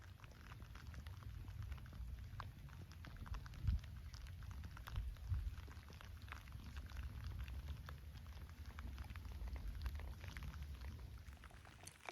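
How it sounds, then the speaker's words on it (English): Rain patters steadily outdoors on a mountain trail, a soft, continuous hiss with scattered nearby drops tapping on a surface, heard alone with no voices. "I'm just gonna wait out the rain a little bit because it has just been passing a lot"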